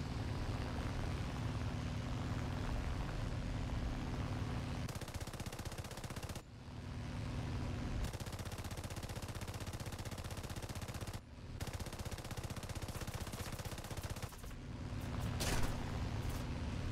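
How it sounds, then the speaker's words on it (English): In War Thunder, an aircraft's machine guns fire in long, loud, dense bursts over a steady engine drone, with short pauses between strings of shots. "I'm gonna start shooting now"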